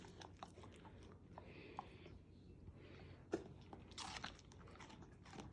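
A dog bites into crunchy raw celery during a food taste test, producing a series of sharp, close crunches and wet chewing snaps spread irregularly across a quiet background.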